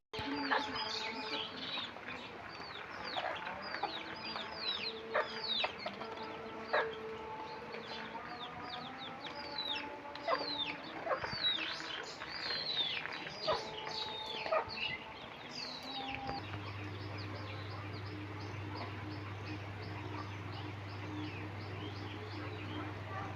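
Chickens cluck and chirp busily while being fed grain, many overlapping calls at close range, with a steady low hum entering in the later part.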